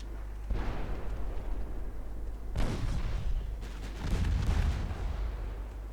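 Heavy 5.9-inch naval guns from a battleship in a naval combat game fire in repeated deep booming salvos, several loud blasts layered over a continuous low rumble of battle.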